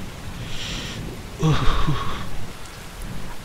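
Steady rain falls as a sound effect in a Bengali audio story, a constant close patter on surfaces that swells louder through the middle before easing back, with no speech.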